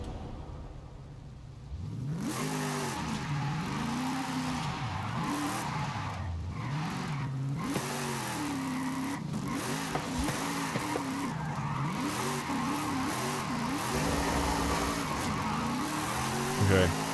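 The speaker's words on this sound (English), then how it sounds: "I'm redlining it and it's like not pulling anywhere" Donut drift car in Forza Horizon revving hard near redline and sliding, engine pitch swooping up and down continuously with tire squeal throughout, loud and close.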